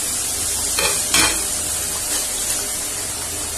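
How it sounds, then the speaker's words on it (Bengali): Tomato paste with green chilli and ginger paste stirred in hot oil, a steady close sizzle with a few scraping spoon strokes against the pan. "এটাকে ভালো করে এবার একটু তেলে নাড়াচাড়া করে নেব।"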